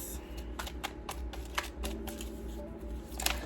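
A deck of tarot cards is shuffled up close, a run of quick riffling flutters and soft slaps in an irregular rhythm, fairly quiet and with no talking.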